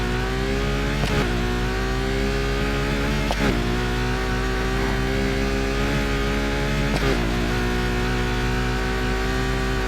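A stock, unmodified car in Need for Speed Heat revs hard through the gears on a speed run. The loud, close engine climbs in pitch, breaks sharply at each of three upshifts, then climbs again, with no talking.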